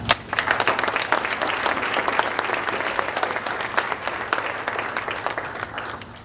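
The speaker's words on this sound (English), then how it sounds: "I want to give you all a round of applause." Sustained applause from an audience at a student awards ceremony, a dense, steady wash of many hands clapping at once that tapers slightly toward the end.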